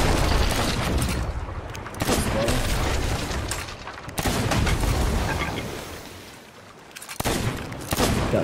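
Cannon fire in Sea of Thieves, heavy booming shots over a constant roar of sea and ship noise, with voices talking now and then.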